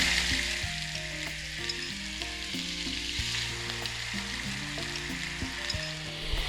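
Onion paste frying in a pan for an ilish fish dish, a constant close hiss of sizzling oil beneath steady background music, with no talk.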